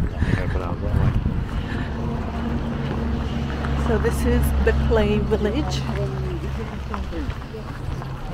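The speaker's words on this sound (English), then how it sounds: "this is actually quite a windy day when we visited these clay villages" Wind blows steadily at an earthen clay village at Ait Ben Haddou in Morocco, a constant low rumble buffeting the microphone beneath a person speaking throughout.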